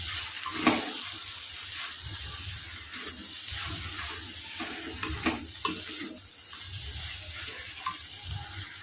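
Okra (lady finger) fries with spices in a pan, a continuous close sizzle broken by scraping spoon strokes and small clanks as the vegetables are stirred.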